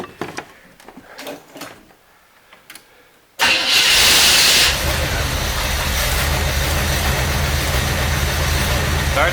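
A 1972 Corvette engine cranks and catches abruptly after near quiet in a garage, then settles into a loud, steady idle.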